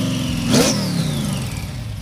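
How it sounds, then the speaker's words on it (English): Supercharged car accelerating hard, a steady engine roar with a brief louder surge and a high blower whine sweeping above it, close and continuous. "Hear that blower whine."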